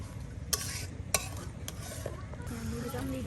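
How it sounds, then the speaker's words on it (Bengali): Spices sautéing in oil in a rural kitchen, a low steady sizzle broken by two sharp clinks of a utensil against the pot early on, then softer stirring scrapes. "সব কিছু আপনার তেলের সাথে দিয়ে মশলাটাকে এখন ভালোভাবে আপনার এটাকে কষিয়ে নেওয়া হচ্ছে"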